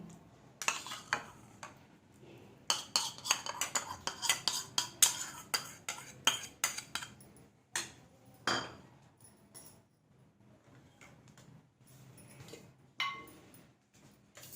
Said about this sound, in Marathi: थोडी चवीला साखर आणि कोथिंबीर आपण छान मिक्स करून घेऊ